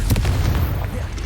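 A Confringo explosive spell in Hogwarts Legacy lands as a short, heavy boom, a deep rumbling blast that holds loud for the full brief moment.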